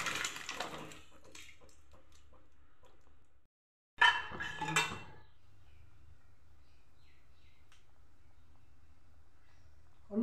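Boiled matar dal goes into a kadai for a pui shaak dish, two short bursts of clattering metal and a wet tumble, close by over a low kitchen hum with a silent gap between.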